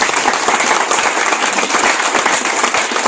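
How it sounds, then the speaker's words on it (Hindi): A crowd applauds at a speaking event, with dense, loud, continuous clapping that holds steady through the whole short stretch and no voices on top. "सिर्फ और सिर्फ अपने लिए, अपने हक में आप तालियां बजाएं"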